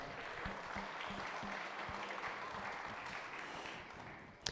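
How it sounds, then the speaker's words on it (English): At a beef expo auctioneer contest, the crowd gives the clerks a round of applause, a steady wash of clapping from many hands with some distinct nearby claps, ending in a sharp knock. "Give them a round of applause as well."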